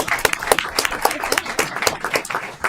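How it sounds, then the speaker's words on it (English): A round of applause at a town board of trustees meeting, a short burst of loud, close, uneven clapping from a small group in the room. "let's give him a round of applause"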